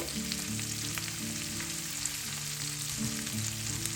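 Chili frying slowly in oil over a low flame, a steady, even sizzle and crackle that continues without a break, close by and with no talking.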